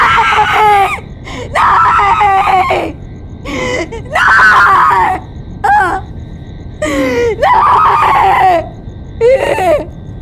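A woman screams in repeated anguished bursts, loud and close, with short gasping breaks between cries, in a dramatized crime scene after a family's killing.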